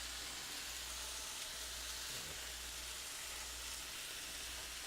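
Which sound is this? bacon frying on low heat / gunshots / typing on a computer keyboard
bacon frying on low heat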